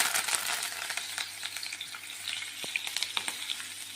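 Green chillies and curry leaves sizzling in hot oil for a chevdo tempering, a dense continuous crackle with brief spoon scrapes and ticks against the pan, close and steady, no talk.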